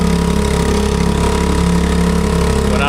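An idling boat engine on a fishing trip in a bay, with a fault that makes it want to die when the throttle is raised, drones loud and close in a steady throb with a slight pulsing unevenness.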